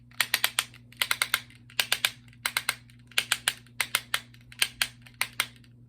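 A plastic Transformers toy joint clicks through its ratchet in quick bursts of sharp, close clicks, repeating in rhythmic clusters with no talking.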